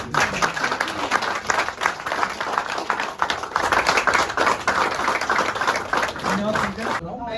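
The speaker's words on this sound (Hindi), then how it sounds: "शंकर के लिए तो बहुत तालियां बजाओ।" An audience applauds steadily for about seven seconds at a documentary release event on water conservation at Uttarakhand Bhawan in Delhi, a dense crowd of clapping hands with some voices mixed in, ending abruptly.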